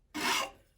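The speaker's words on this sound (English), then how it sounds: "Now, if I want to finish that off and do finer shaping, I can do the same thing with this rasp." A fine rasp shapes a piece of wood in one short, raspy scraping stroke, close and fairly loud, with no other sound around it.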